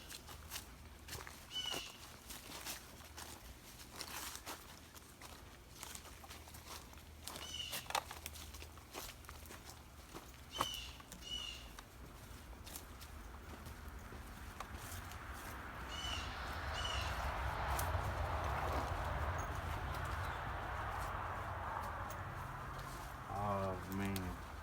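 A bird calls outdoors on a Texas horror-film set, with short chirps repeating near the start and a trill near the end, heard under people talking, footsteps and a steady rise in background noise.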